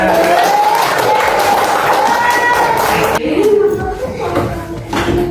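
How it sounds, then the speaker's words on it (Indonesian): A classroom group claps and cheers at once, a dense burst of applause mixed with shouting and shuffling that thins out midway, with voices carrying through it. "Baik, tepuk tangan."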